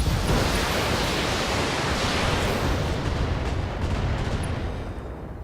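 Mech weapons fire strikes an enemy in the BattleTech video game as a dense, continuous roaring barrage, loud and close, easing off slightly toward the end.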